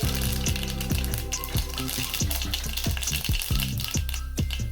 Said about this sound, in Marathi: मोहरी चांगली तडतडू द्या